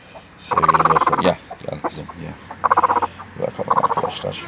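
A Denizli hen with her newly hatched chicks gives several close, pulsing bursts of rapid clucking, separated by quieter gaps, with a voice talking in between.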